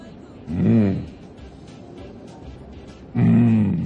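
Two short, loud growling roars from a human voice imitating a lion, separated by a quiet stretch with faint background noise, in a TV studio.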